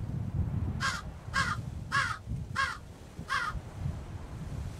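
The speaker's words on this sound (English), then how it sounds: "I hear you, Crow." Five evenly spaced caws from a crow in a survival horror video game, each short and harsh, ringing out clearly above a low, steady ambient rumble.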